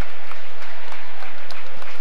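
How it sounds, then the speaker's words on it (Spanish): Crowd applause in an Argentine league basketball arena, loud, steady clapping from the stands filling the whole moment with a few sharper claps poking through. "El aplauso de la gente para Estefano Arancibia"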